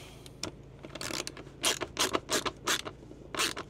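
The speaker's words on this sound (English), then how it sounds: "10mm socket on back end. Rock it up nice and tight." A 10mm socket tightening a bolt on a magnetic traction board mount for a camper van, giving a series of close, quick ratcheting clicks and creaks in irregular bursts.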